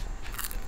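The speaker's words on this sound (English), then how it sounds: "That's a nice crunch." An air-fried sweet potato fry is bitten, giving one short, crisp crunch up close with a brief crackle, alone and quiet.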